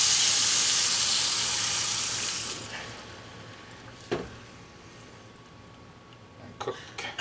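Stock poured into a hot pan for an air fryer beef pocket pie filling makes a strong hissing sizzle and steam that fades over several seconds into a low simmer, with a few scraping knocks.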